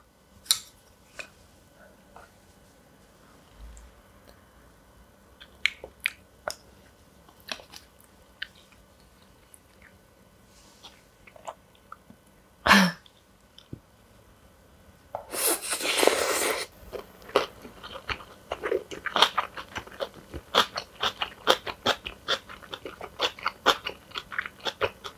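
Someone eats sea squirt on bibimbap with spicy young-radish kimchi, making close, sparse chewing clicks and wet bites, then a denser crunching burst midway, with no talk.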